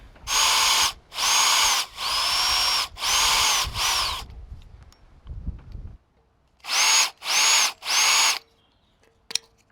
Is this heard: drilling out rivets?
yes